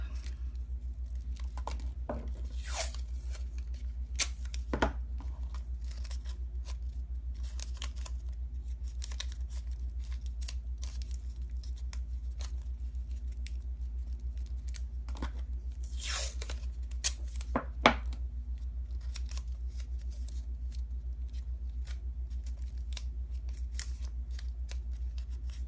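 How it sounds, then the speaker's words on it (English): Tape is torn off a roll and wrapped around an object, giving repeated short ripping and crackling bursts over a steady low hum, with no one speaking. "It's just wrapping it in tape."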